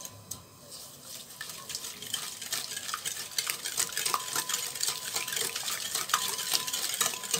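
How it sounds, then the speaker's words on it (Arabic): Mixture for an orange tart stirred briskly in a bowl, a dense run of rapid scraping and tapping strokes, close and growing slightly louder. "نخلطو هاد الخليط مليح"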